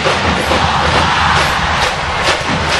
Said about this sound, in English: Let's listen to this crowd.